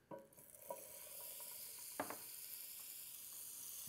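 Butter sizzling in a hot Copper Chef pan on high heat, a steady bright hiss with occasional soft clinks of a utensil, faint and close-up with no talking.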